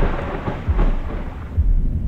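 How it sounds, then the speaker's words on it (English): Rolling thunder from a lightning strike in the video game I Have No Mouth and I Must Scream, a loud, sustained rumble with two heavier booms and rain-like hiss, with no talking. "I got struck by lightning."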